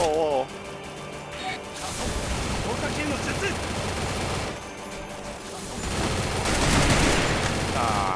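Rapid bursts of automatic gunfire and crashing impacts crowd a busy Free Fire zombie-mode soundscape, loud and sustained, with brief pauses between volleys.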